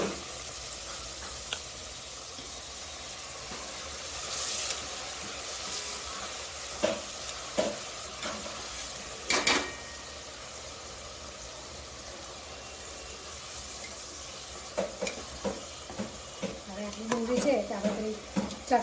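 Onions frying in a pan with a pinch of salt, a steady low sizzle under intermittent scraping and clinking as they are stirred, the stirring growing busier toward the end; a voice speaks faintly at times.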